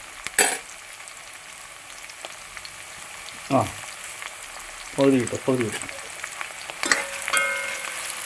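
Curry leaves hit hot oil for a Kerala-style chicken stew, giving several sharp bursts of crackling sizzle spaced a few seconds apart over a low frying hiss, with a person speaking briefly.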